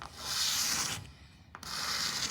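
A steady, close scratchy rasping of protective film being scraped from Lexan polycarbonate with soapy solution, pausing briefly midway before resuming at the same level.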